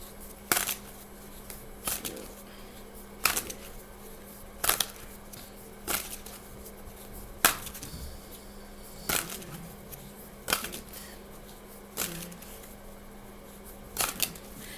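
Tarot cards are shuffled in quick riffling bursts, roughly every one to two seconds, close and fairly quiet against a soft background.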